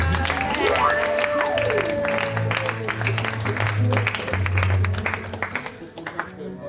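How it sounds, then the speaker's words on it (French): A church congregation applauding and cheering for Jesus, steady clapping from a crowd mixed with voices, a sustained tone and music, loud and lively before fading near the end. "Acclame très très fort Jésus"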